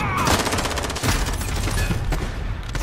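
Gunfire from a video game match using a platinum-camo shotgun, with rapid overlapping shots and impacts packed densely together, loud and close throughout.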